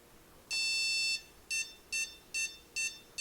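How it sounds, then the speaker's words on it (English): Electronic speed controller on an RC car, a Toro ESC in calibration mode, lets out one long high beep followed by five short evenly spaced beeps, clear and close with no talking. "It's in beeping mode."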